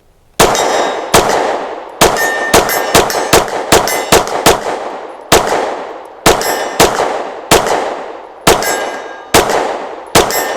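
Rapid pistol fire from a Taurus TS9, about sixteen sharp, loud reports in quick bursts, each shot ringing with a metallic tail and no talk.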